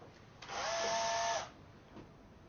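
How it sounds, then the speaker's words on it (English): A single short burst of a power drill whining steadily for about a second as it drills through a door, close by, then stopping against a quiet background. "and then simply drill through"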